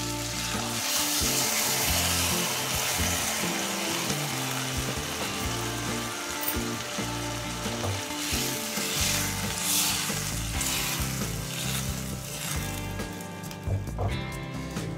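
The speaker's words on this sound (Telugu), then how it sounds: "ఆ చింతపండు పులుసు కూడా వేసుకుందాం." A fish curry made with okra and bonta fish sizzles loudly and continuously in the pan as tamarind extract is poured in, with bubbling and occasional stirring scrapes throughout.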